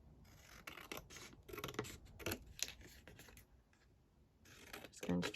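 Scissors trimming a paper craft piece, a run of close, quiet snips and rustling cuts in an uneven rhythm, with no talk over them.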